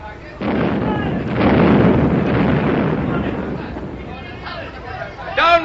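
Naval gun salvos fire in a wartime radio drama about a sea battle with an enemy submarine, giving a loud, sustained booming roar with rumbling decay, and voices are heard over it near the end.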